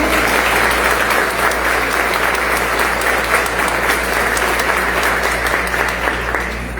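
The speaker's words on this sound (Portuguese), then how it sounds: "Você pode aplaudir ao Senhor por essa palavra?" A church congregation breaks into loud, sustained applause, dense clapping filling the room at a steady level and tapering slightly at the end.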